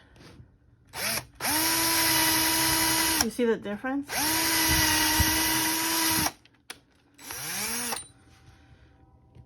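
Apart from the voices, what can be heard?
electric drill drilling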